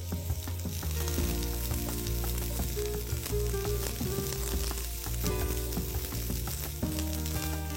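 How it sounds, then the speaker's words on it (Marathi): Three small onions frying in a little oil in a pan, a continuous sizzle that is partly buried under loud steady background music, with no talking. "लगेचच मी यामध्ये कांदा भाजून घेणार आहे. थोडं तेल टाकून घेते त्यामध्ये."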